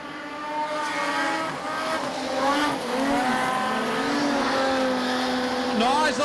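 Stott's modified production speedway race car at Maryborough Speedway sounds rough and uneven amid other cars' engines roaring and rising and falling past, with a commentator talking over the racing.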